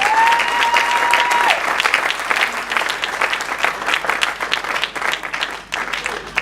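Sustained applause from a congregation at a church's 20th anniversary service, dense and loud clapping filling the room, with a sung or spoken tone briefly audible at the start.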